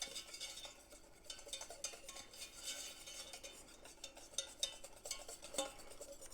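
Flour cooking in a pan for gravy, stirred with a utensil that scrapes and clicks against the metal in quick irregular strokes over a faint sizzle, fairly quiet and close.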